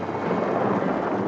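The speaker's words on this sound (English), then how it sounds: "We heard a clatter of thunder" Rumbling thunder used as a sound effect in a cowboy song recording, a steady, loud roll of thunder mixed with rain-like noise, filling the whole moment with no singing over it.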